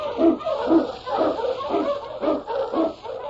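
A sled dog, an Eskimo lead dog in a Yukon radio drama of storm and snow, barks in a steady rhythm of about six loud, close yelps, with no voices over it.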